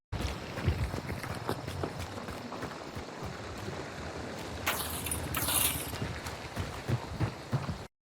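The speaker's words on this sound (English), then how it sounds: "I hear some footsteps behind me" Footsteps in the Hunt: Showdown bounty hunt video game, a run of soft irregular steps moving nearby over a constant ambient wash, with a brief louder rustle midway.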